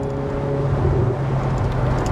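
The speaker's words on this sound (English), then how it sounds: "You can really hear the whistle of the turbo as well." A Ferrari 488 Pista Spider driven with its roof off at sunset, its turbocharged engine giving a loud, steady drone heard from inside the cabin, with a faint thin whine riding on the continuous rumble.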